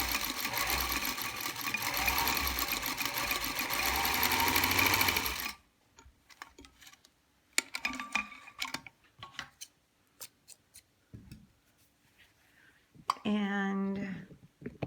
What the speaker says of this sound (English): as they feed, they come together right here as it goes under the presser foot.